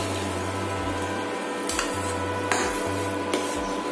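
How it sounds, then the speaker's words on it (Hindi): Tomato paste being added and stirred into a sizzling paneer curry gravy in a pan, with a steady low frying hiss and three distinct scraping clinks of a spoon against the pan, close up. "तो अब लास्ट में मैं डालूंगी उसमें ये टमाटर का पेस्ट"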